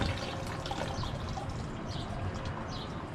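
Water running and splashing steadily while being rinsed out of a car radiator, a continuous close wash of liquid with no talk.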